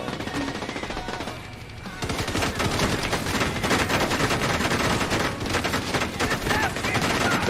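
A turret gun in a video game fires long rapid automatic bursts, loud and continuous, with a short pause near two seconds before the rattling volley resumes.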